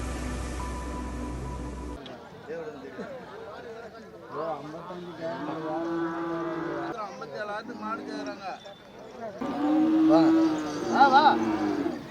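Cattle lowing at the Chettithangal livestock market, several deep moos rising over a busy crowd, with people talking close by throughout and the calls growing louder toward the end.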